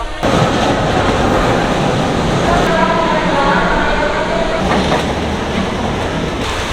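Steady rumble and rush of a light rail train in motion in the Philippines, heard from inside the car while it rains, continuous and fairly loud throughout.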